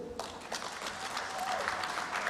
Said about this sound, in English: That applause is not coming from that table where they are sleeping.